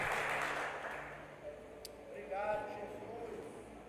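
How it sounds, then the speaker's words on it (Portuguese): A church congregation claps, loud at first and then fading, while a preacher's voice carries over the applause. "você pode aplaudir o Senhor"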